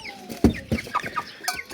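Young roosters of a champion breed clucking and calling in short bursts, several close strong calls spaced irregularly across a brief stretch.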